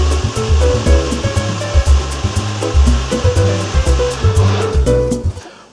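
Blender whizzing kale into a green smoothie, a loud continuous motor roar with rhythmic pulsing throughout, cutting off abruptly near the end.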